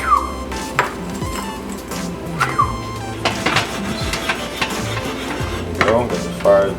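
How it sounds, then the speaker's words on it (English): Pancetta sizzling loudly over high heat as it is stirred into a carbonara sauce, with repeated clanks of utensil on pan and brisk scraping strokes. "So I'm just going to add some bacon back to this here."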